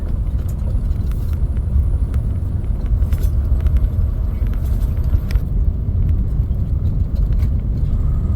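A truck on the Haul road, a gravel highway in Alaska, approaches as a steady, loud engine rumble that stays broad and even throughout, heard from inside a moving vehicle with constant road noise.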